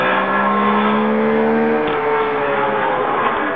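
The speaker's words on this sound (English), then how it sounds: "That Mustang of Dean's is remarkably quiet, too." A Ford Mustang race car without open pipes, running in a race alongside Porsche 962s and Mazdas, holds a steady, fairly quiet engine drone with a sustained tone and a slight pitch shift as it goes by, no voices over it.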